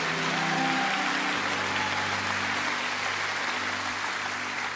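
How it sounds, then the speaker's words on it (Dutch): Church congregation applauds the newly baptized during a Sunday service, a continuous, fairly distant wash of clapping with a low hum underneath. "Dopelingen hier nog een hartelijk applaus geven"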